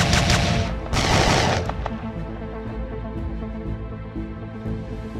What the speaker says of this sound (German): Die Waffengeräusche knattern oder zischen auf gutem, aber keinem herausragenden Niveau.